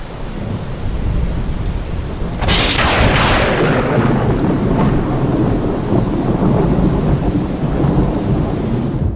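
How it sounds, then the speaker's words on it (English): A heavy thunderstorm pours rain loudly and steadily, and a close, sharp thunderclap breaks in and rolls off over several seconds. "it was a stormy one where there was a huge outpour of rain"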